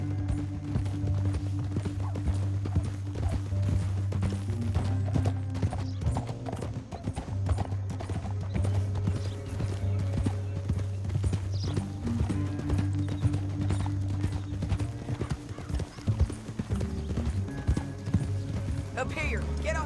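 Horse hooves clip-clop at a gallop in Red Dead Redemption 2 on PS5, a steady rhythmic beat running for most of the stretch beneath game music and a dialogue voice, with an occasional whinny.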